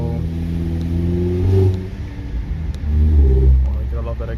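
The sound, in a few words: Toyota Camry engine and exhaust revving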